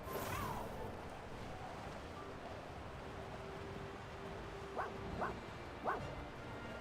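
A dog Pokémon in Pokémon Scarlet gives three short, yippy barks near the end, spaced under a second apart, after a faint whimpering call and over quiet game background noise.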